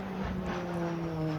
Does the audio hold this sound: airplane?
yes